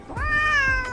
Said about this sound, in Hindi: लुकिंग लाइक अ म्याऊ